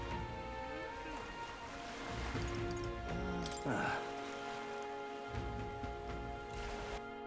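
Steady rain hisses throughout with a dense wash of drops in the video game Metaphor: ReFantazio, while a voice speaks over it and occasional clatter and movement sounds rise briefly.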